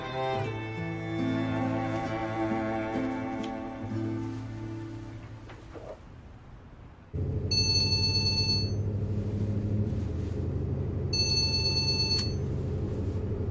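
A telephone bell rings in two sharp bursts, loud and close, after a stretch of swelling orchestral music.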